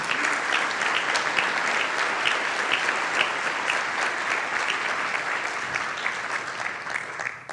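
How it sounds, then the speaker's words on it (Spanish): Steady, dense applause fills the room from a conference audience clapping for themselves, loud and unbroken from start to finish before it begins to thin slightly at the end. "Les pediría que se dieran un aplauso, les pediría que se reconocieran ustedes."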